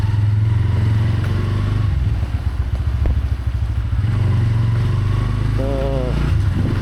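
A motorcycle on a weekend bike ride, with a steady low engine drone and a brief rev midway, close and continuous beneath a rider's talk.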